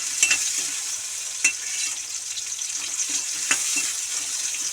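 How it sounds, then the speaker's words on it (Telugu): Onions and tomatoes fry in a pan for sambar, a steady close sizzle with a few sharp stirring clicks and knocks scattered through it. "ఇలా ఆనియన్ ఫ్రై అయ్యాక కొద్దిగా టమాటాలు కూడా వేసుకొని ఫ్రై చేసుకుందాం."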